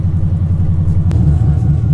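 A Chevrolet Camaro LT1 V8 with long tube headers idles with a deep, loud, steady burbling exhaust rumble, close by and uninterrupted.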